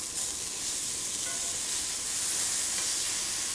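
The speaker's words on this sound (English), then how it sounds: "All right, so it's time to flip our steaks." Steaks sear in a hot pan with a continuous bright sizzle and hiss, steady and fairly close, with no talking.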